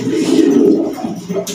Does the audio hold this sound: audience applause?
no